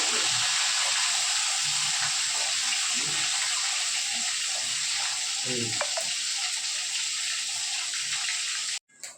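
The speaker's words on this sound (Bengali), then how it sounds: "মাছটা পুরো ভাজা হয়ে গেছে" Fish frying in oil under a lid gives a steady, close hissing sizzle that holds throughout, with a few soft low knocks, then cuts off abruptly near the end.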